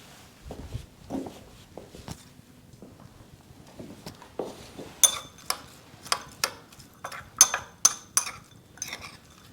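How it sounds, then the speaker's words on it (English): A spoon stirring seasoning into hamburger meat, light clinks and taps against the bowl that start sparse and turn into a quick, irregular run of bright ticks, close and fairly soft. "what I'm going to do is go ahead and mix it in"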